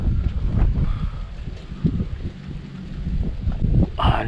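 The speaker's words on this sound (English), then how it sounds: "And it's windy actually today." Wind gusting around a small boat out on the water near a lighthouse, a steady low roar of buffeting across the microphone that swells and dips, with no talk.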